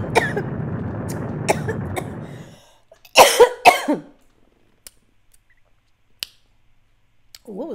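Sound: coughing fit

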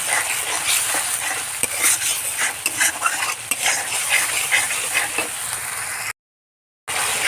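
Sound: fish masala with turmeric and salt being stir-fried

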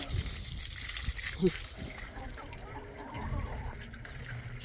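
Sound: pouring fresh drinking water for pets

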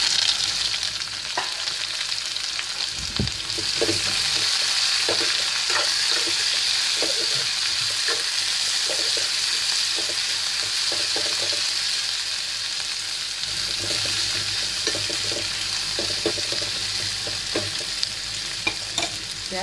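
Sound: onions frying in a pan

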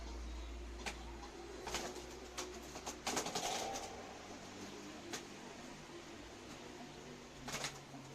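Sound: pigeons fighting or trying to mate

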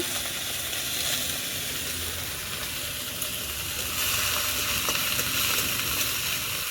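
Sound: frying drumstick flowers in a pan

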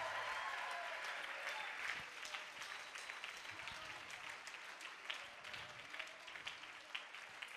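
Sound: applause in a church seminar

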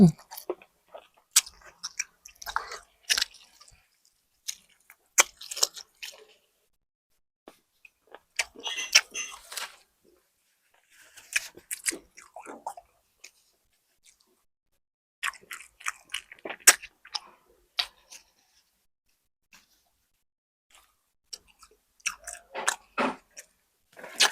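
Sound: chewing grilled pork ribs

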